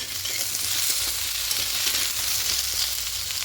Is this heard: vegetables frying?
yes